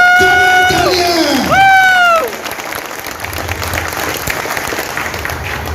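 Audience applause at a motivational stage event fills the second half, a steady loud clatter of clapping that follows a strong, sweeping tonal burst at the start.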